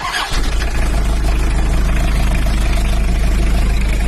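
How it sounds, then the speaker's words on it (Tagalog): A Toyota Town Ace engine, just started, idles with a steady loud rumble and a constant low hum, close up and unbroken throughout. "yan po yung tunog ng makina ko ngayon. Ang aking Toyota Town Ace."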